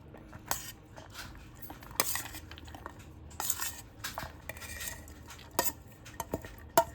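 Ground moong dal is being mixed with chopped onion and coriander in a bowl, heard as a quiet, irregular scraping and clinking of a utensil against the bowl, with scattered sharper taps.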